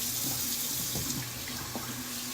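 Cold water runs steadily from a tap into a sink for rinsing after shaving, a continuous close hiss and splash with small gurgles, and no voices.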